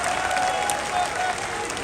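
Loud, continuous applause from a large crowd at an Indian political rally, steady clapping filling the whole stretch without a break.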